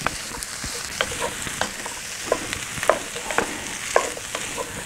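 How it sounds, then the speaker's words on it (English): Potatoes and carrots cook in a pot of hamburger stew while a spoon stirs through them, giving a steady sizzle broken by repeated scraping knocks against the pot, fairly close and with no talking. "I throw my potatoes in there, my carrots in there, let them cook. Stir that all around."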